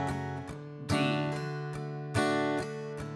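Guitar strums chords of a song, all downstrokes in a steady pulse with a few stronger accented hits, ringing chords close and unaccompanied by talk.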